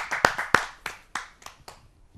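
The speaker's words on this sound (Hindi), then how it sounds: "आइए जोरदार तालियों से।" Sparse claps from a small audience at a kavi sammelan poetry gathering, welcoming a poet: about seven distinct, separate hand claps, loud at first and thinning out, with no talking.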